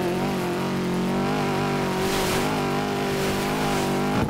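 Subaru rally car in Dirt 2, an engine droning loud and steady at high speed, with a brief rising rev and a hint of tire squeal, no talking.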